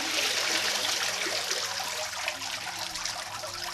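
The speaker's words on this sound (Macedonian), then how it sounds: "се цеди водата, тие честички остануваат на површината" Water drains steadily through a wooden sieve lined with double-layered fishing net during hand papermaking, a continuous broad trickling wash that stays fairly even and close throughout, with no voices.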